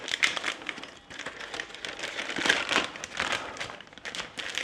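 A plastic bag crinkles and rustles in uneven bursts as leftover lasagna is pushed into it by hand, close and moderately loud with no talking.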